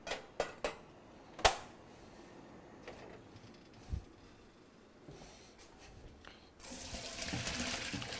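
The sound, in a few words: water running into a sink while potatoes for fries drain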